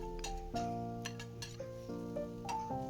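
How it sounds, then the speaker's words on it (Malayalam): A spoon scrapes and clinks in a bowl as mashed potato is mixed into a banana flower cutlet mixture, a few short close taps and stirs over a steady low background hum. "ഇനി നമ്മൾ വേവിച്ച് ഉടച്ചു വെച്ച ഉരുളക്കിഴങ്ങ് കൂടെ ഇതിലേക്ക് ചേർത്ത് കൊടുക്കാം"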